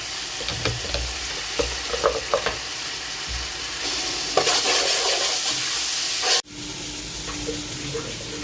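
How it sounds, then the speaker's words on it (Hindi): Garlic paste frying with an onion and garam masala base in a pot, a steady close sizzle with short stirring clinks early on, then a louder hissing surge before a sudden drop to a quieter, even fry. "लहसुन का पेस्ट डालेंगे,"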